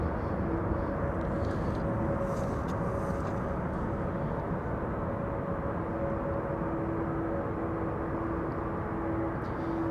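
A Boeing 747 approaching Amsterdam Schiphol Airport gives a steady, distant jet roar with a faint whine, holding even throughout with no voices.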